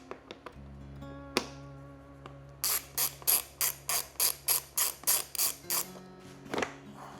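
A ratchet wrench loosens the seat bolts on a KTM XCF 350 dirt bike, giving about ten quick, evenly spaced clicking strokes up close after a low hum and a few scattered knocks.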